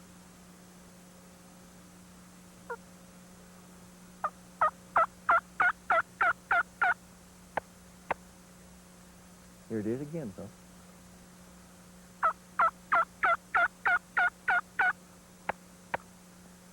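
A mouth or box turkey call imitates an impatient hen, with two bursts of rapid yelping of about eight notes each, separated by a short run of excited clucking, played loud and close over a steady hum while someone speaks briefly.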